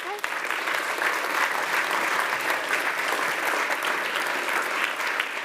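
Audience applause at a startup demo day, a sustained burst of many hands clapping, close and even throughout, with a brief voice at the very start.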